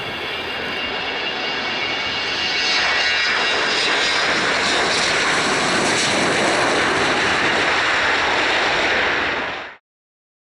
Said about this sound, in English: 757 raced the runway and then did a beautiful takeoff